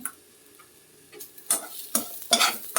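Grated coconut and turmeric stirred around a hot pan with the heat off: soft scraping and sizzling strokes, a few louder swishes toward the end, close and without talk.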